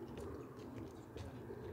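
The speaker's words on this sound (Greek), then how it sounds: "Ωραία περιστέρια, πολύ ωραία." Pigeons coo softly in the distance, low murmuring calls blending into a steady background hum, faint and continuous with no voices.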